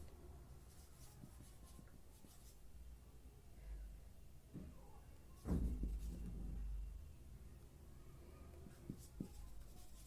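A pen or marker writes during a physiology lecture on primary hemostasis, with faint, intermittent scratchy strokes that sit low and quiet and are briefly louder in the middle.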